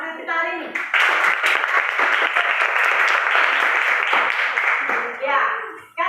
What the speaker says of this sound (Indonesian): Jadi, tepuk tangan dulu semangat kita hari ini.